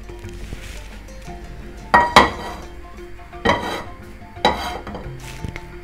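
Freshly roasted pistachios are tipped from a pan onto a plate holding almonds, giving three or four sharp metallic clanks and scrapes of utensil against cookware, with quiet rattling between the hits.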